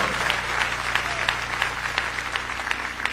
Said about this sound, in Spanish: Dele fuerte ese aplauso al Cristo de la gloria en esta hora.